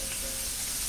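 Sausage and onions frying in a pan, giving a steady close sizzle without pauses for about a second.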